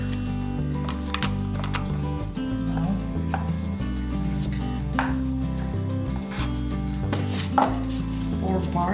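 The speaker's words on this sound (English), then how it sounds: "It's best to mash potato when they're still warm." Warm boiled potatoes are mashed for Polish kopytka dumplings, producing steady repeated thuds and squishy presses against a bowl, close and rhythmic throughout, with occasional clinks of utensil on dish.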